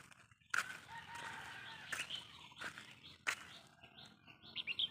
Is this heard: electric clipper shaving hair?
no